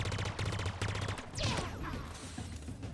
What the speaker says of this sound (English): Rapid fire pulse carbine.